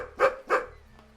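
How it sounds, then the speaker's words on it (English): A dog in the video game Bilkins' Folly gives two sharp, close barks in quick succession to mark a spot for digging, followed by a brief faint trailing sound. "he'll bark like that, then you dig up"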